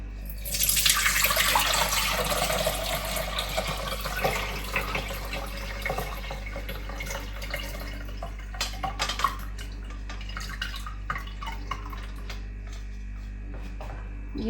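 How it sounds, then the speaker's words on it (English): Elderflower cordial liquid poured through a sieve into a bowl, a close splashing gush at first that settles into a softer trickle and drips as the pour eases off. "So I'm just going to pass the fluid through a sieve into the bowl."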